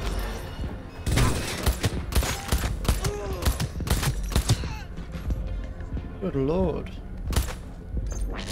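Gunfire in the Cyberpunk 2077 video game crackles in rapid bursts of sharp shots and thuds, mixed with game effects and a voice partway through.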